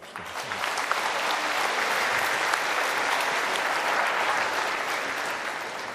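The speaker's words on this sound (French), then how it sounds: "Vous pouvez les applaudir." Sustained applause from a crowd of parents and families at a church faith celebration, steady and dense throughout, swelling in over the first half second and holding strong, with faint voices beneath.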